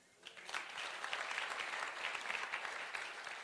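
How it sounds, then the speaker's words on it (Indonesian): A church congregation breaks into a burst of applause, dense overlapping clapping from many people that rises quickly and holds steady throughout. "Tepuk tangan dong."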